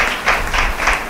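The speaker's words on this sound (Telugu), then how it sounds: "చప్పట్లు కొట్టండి." Audience at a Christian sermon clapping hands together, a dense burst of applause swelling in a few pulses over about a second, moderately loud with no talk.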